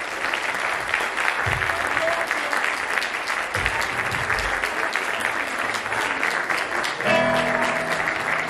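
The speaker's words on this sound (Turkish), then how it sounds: "Bir alkış alabilir miyiz?" Audience applause fills the hall at a 7th grade year-end night, a steady dense clapping throughout with brief low thumps, and it swells slightly near the end.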